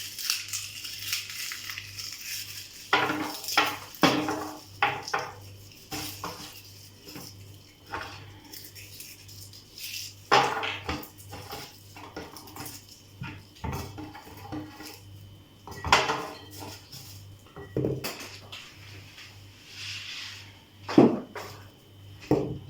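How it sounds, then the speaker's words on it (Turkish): Garlic cloves rattle and knock inside a large glass jar being shaken hard, a busy run of clattering bursts with short pauses over a low steady hum. "Şimdi 3 sarımsağı kavanoza koyduk ve sarıyoruz. Hızlı bir şekilde sarıyoruz."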